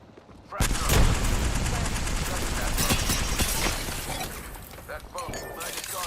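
Rapid bursts of gunfire in a ranked Apex Legends match, a loud sustained volley with sharp cracks and shattering hits, tapering off into scattered shots toward the end.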